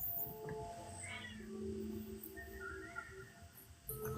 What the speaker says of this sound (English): Okay, kitty cat, what's going on?